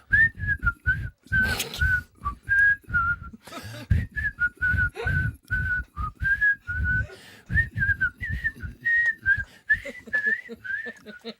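A person whistles a bouncy tune, the pitch rising and falling over a steady thumping beat, loud and close, with no talking.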